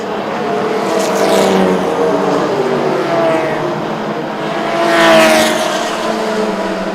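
A Ford Mustang race car roars around the track during a Thailand Super Series race, its engine a loud continuous drone that swells as it passes near the five-second mark, with no talking.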